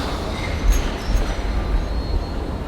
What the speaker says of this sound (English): as we watch the South Sydney Juniors Kingsford tram take off